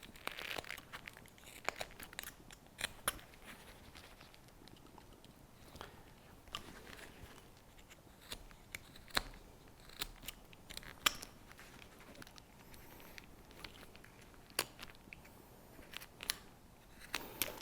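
Sharp knife carving small cuts into wood while shaping a tiny Santa figure: quiet, irregular crisp snicks and scrapes, close up, scattered throughout with short pauses between strokes.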